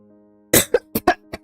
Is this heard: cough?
yes